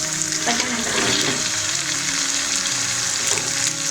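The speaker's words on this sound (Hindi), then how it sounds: "दोनों को अच्छे से मिक्स करेंगे और इनको फ्राई होने देंगे" Eggs and onions frying together in a pan give a steady, moderately loud sizzle with soft crackles and occasional stirring scrapes throughout.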